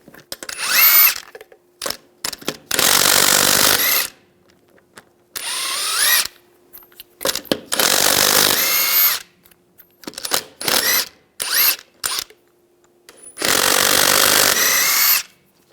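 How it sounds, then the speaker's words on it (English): Impact wrench spinning lug nuts off a Ram 1500 wheel with a 22mm socket, in several loud close bursts of whirring and rattling separated by short pauses. "take the lug nuts off."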